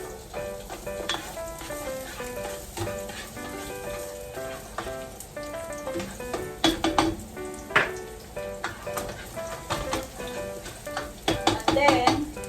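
Garlic sautés in a pan, with a continuous crackling sizzle and scattered pops, growing busier toward the end, close and steady with no voices.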